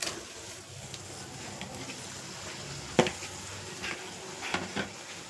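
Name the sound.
stirring ingredients frying in a pan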